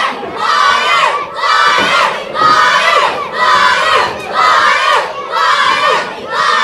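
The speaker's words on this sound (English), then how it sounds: "It is so loud in here, Zach." A loud crowd at a championship wrestling event chants in rhythmic, repeated bursts of shouting, about seven swells in steady cadence, filling the arena.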